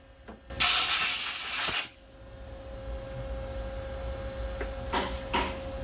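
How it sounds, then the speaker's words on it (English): Machining tool cutting down a small section of heat-treated, hardened steel weld: a loud, harsh broadband hiss bursts for over a second, then drops to a steady low whine with faint brief scrapes afterward. "why it's so loud machining down that little section of weld"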